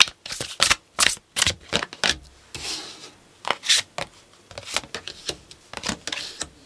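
Tarot cards shuffled by hand in a series of crisp, rapid riffling bursts with brief pauses between, close and clear, with no talking.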